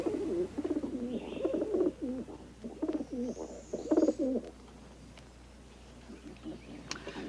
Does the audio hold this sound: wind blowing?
no